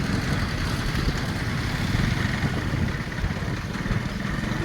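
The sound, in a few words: motorcycle engine while riding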